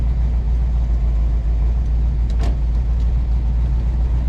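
A 1956 Corvette engine runs with a constant deep, loud rumble as the car pulls off, accompanied by a brief sharp click midway.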